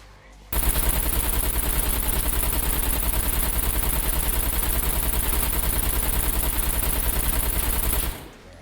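Continuous rapid AK-47 fire in the video game SCUM rattles loudly and steadily for several seconds, then cuts off abruptly.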